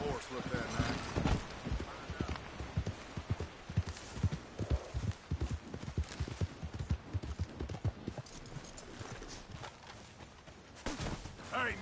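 Horse hooves clip-clop in a steady, fairly close rhythm throughout, a few louder stomps mixed in with light background noise.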